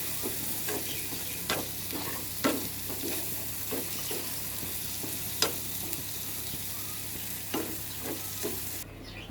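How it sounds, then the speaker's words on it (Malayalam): Clam meat frying in a pan sizzles steadily while a spoon stirs it, scraping and knocking against the pan in irregular strokes, close and alone without talk. "നമുക്ക് കൈവിടാതെ ഇളക്കി എടുക്കണം"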